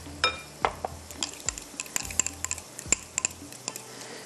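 Masala with yogurt for Kashmiri chicken masala is stir-fried in a pan, with a soft sizzle under frequent clinking and scraping strokes of a spoon against metal.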